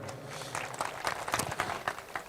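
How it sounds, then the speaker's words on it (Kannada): Audience applause at the Siddanakolla fair award ceremony, a steady patter of many hands clapping at moderate volume, with faint voices mixed in. "ಚಪ್ಪಾಳೆ ಹೊಡ್ರಿ ಅವರಿಗೆ."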